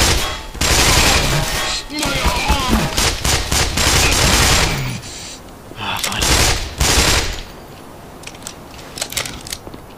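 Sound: gunfire in video game Black Mesa

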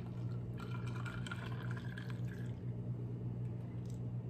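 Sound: freshly brewed hot coffee poured over a glass of ice

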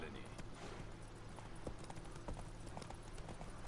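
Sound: horse hooves clip-clopping on road, from video game The Witcher 3

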